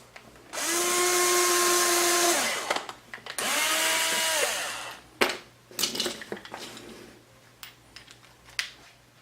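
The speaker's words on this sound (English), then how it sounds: "we're drilling in to the wood as a pilot hole." A power drill with a 1/16 inch bit bores a pilot hole into wood for a quad frame build, two sustained whining bursts of the motor, followed by clicks and handling clatter of tools.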